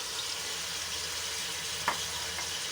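Spices stirred into beef trotters and meat frying in a pot: a faint, even sizzling hiss with one or two light clinks of a spoon, quiet and steady, with no voices.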